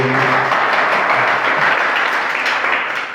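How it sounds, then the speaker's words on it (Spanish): Audience applause at a public forum on child and youth development, a loud, even roar of clapping from many people, with a voice briefly audible at the start. "un aplauso a..."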